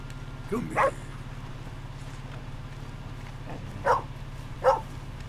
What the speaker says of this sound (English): Oh, puppy!